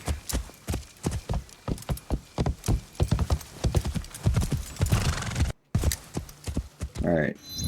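A horse gallops in Assassin's Creed Shadows, hooves beating a fast, even clip-clop throughout, briefly cut by a gap, then a whinny near the end.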